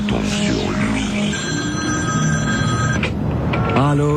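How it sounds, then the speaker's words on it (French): A telephone bell rings loudly in a French radio comedy sketch, layered over a dense, busy backdrop of music and noise, with sliding tones near the end. "Quand le téléphone sonne, on ne peut pas s'empêcher de répondre"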